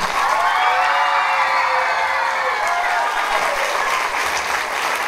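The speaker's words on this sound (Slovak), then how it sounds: "potlesk aj pre nášho zvukára a osvetľovača Jara Liptáka" Audience applause at a Mother's Day circus-themed school show, a steady dense wash of many hands clapping throughout with faint scattered cheers, fairly loud and continuous.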